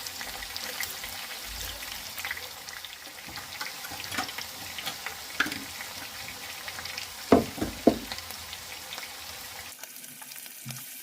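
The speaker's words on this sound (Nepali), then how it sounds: "अब हामीले चाहिँ चलाएर फेरि फ्राई गर्नुपर्छ चिकन र प्याजलाई" Chicken and finely chopped onions fry in a pan with a steady, quiet sizzle, while a utensil stirs and scrapes now and then, giving a few louder knocks.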